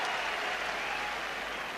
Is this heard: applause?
yes